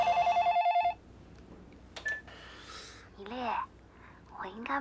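A telephone rings in an electronic double-burst pattern at a home, loud and clear for about a second, then stops; soft rustling and faint breathy voices follow.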